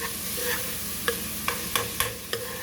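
Food sautés in a pan for an oyster stew, with a constant soft sizzle and a few sharp, evenly spaced stirring clicks from a utensil, close and with no voices.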